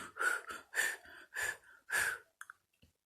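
A person demonstrates deep, relaxing breathing to ease menstrual pain, with about four slow breaths in and out, close and fairly quiet, each exhale a soft airy rush with brief pauses between.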